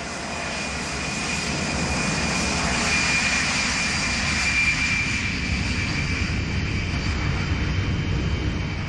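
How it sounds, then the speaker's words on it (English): Aer Lingus passenger plane engines drone steadily in a loud continuous cabin roar with a high whine running through it, unbroken throughout and free of talk. "We were on an Aer Lingus plane."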